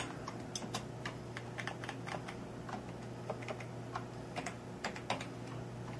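Someone types on a computer keyboard, with quick irregular key clicks close by over a low steady electrical hum.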